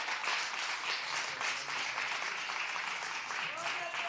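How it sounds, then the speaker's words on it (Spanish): A church congregation claps for the Lord during a Spanish-language sermon, a fairly quiet, steady wash of hand claps with a voice faintly rising near the end. "Dele palmas al Señor."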